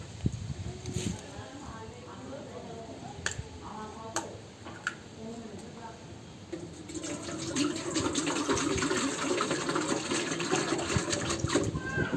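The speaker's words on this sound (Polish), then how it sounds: "wodę nalewamy tutaj do tego pojemnika" Water runs into the container of a Turkish tea kettle, a faint trickle at first that swells into a steady, louder pour in the second half, with ticking and clinks earlier.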